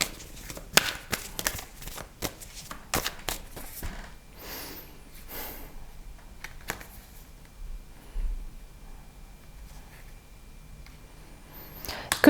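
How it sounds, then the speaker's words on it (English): Tarot cards being shuffled before one more card is drawn: irregular papery riffles and taps, close and fairly soft, scattered across a long stretch with quieter gaps and a low background hum, no voices. "I'm going to pull one more card for this"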